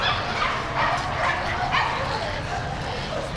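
Several happy dogs bark and yip in a busy Mexico City street in La Condesa, with steady overlapping yelps and whimpers close by over constant background chatter and street noise.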